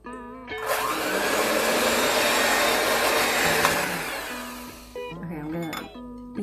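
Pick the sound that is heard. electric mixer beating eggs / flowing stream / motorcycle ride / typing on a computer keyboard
electric mixer beating eggs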